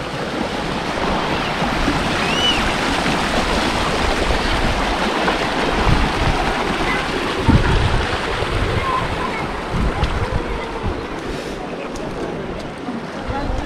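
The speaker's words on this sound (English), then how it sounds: "Flow of water." Water flowing over the travertine terraces of Pamukkale in Denizli, Turkey, a steady broadband rush that holds at a constant loudness for the whole stretch, with faint wind and low footstep-like rumbles beneath.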